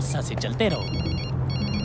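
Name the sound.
phone ringing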